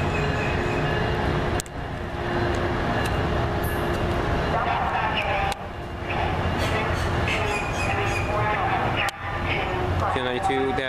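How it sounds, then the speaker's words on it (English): Amtrak Silver Star northbound passenger train passing at Dania Beach, Florida, with a loud, continuous rumble and wheel noise across the whole span and a voice talking over it. "the northbound Silver Star is now coming"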